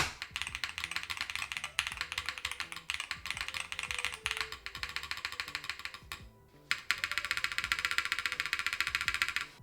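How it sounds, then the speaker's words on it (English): Rapid, steady typing on a keyboard fitted with Hall effect switches, a dense run of crisp clicks and clacks heard up close with a short pause midway, slightly rattly, no voices. "Alright, these switches sound okay. There's something rattly about them."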